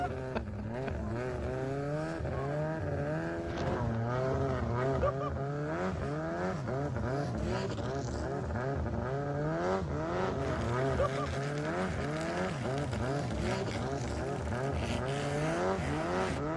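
A longtail racing boat motor runs hard and loud, its engine note rising and falling in repeated revs. Excited voices talk over it throughout.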